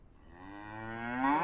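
A single drawn-out cow moo from the Fantasy Shop Simulator video game, rising and swelling slightly in pitch and loudness, heard alone and fairly faint.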